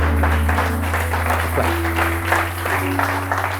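A church congregation applauds during a pastor's sermon, with steady, dense clapping and cheering spread across the room over a sustained musical hum.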